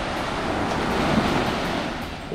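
Surf washes in a continuous, broad roar, with steady rushing water and some wind buffeting, with no voices heard.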